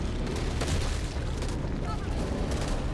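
Grenades bursting in the zombie shooter Back 4 Blood: a dense, continuous roar of loud booms and blasts running throughout with no break, a voice faintly mixed in beneath the explosions.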